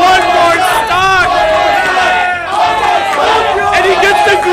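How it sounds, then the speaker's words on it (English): Tournament crowd at a Super Smash Bros. Melee match chanting loudly and continuously, a dense roar of many voices with rising shouts, close and filling the whole space. "the crowd chanting for one more stock"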